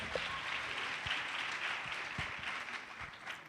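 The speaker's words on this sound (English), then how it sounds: "Let's give them a round of applause." Applause from an audience at a Free State event honoring apprentice training staff, a steady, moderately loud wash of clapping with a few sharper claps, lasting throughout.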